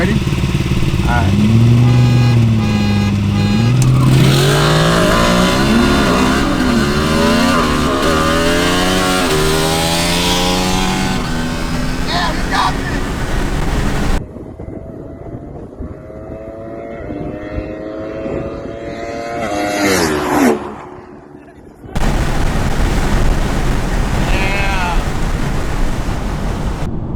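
A big-turbo BMW 340i engine and a Ducati motorcycle roar close by at high revs, pitch climbing through gear shifts, then fading with wind rush before a loud pass.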